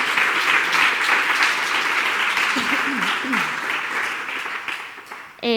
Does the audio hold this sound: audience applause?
yes